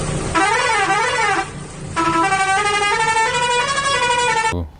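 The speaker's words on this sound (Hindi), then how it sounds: "बड़े हॉर्न लगा दो" A loud, blaring musical vehicle horn with a wavering, warbling pitch that pauses briefly, then sounds again before cutting off abruptly.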